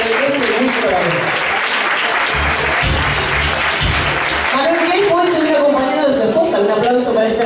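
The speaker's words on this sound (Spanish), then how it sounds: "Un aplauso para nuestra querida Rocío García" Applause for a church choir director at a Spanish singing contest presentation, a dense steady clatter of clapping from a crowd filling the whole stretch, with a voice talking over it.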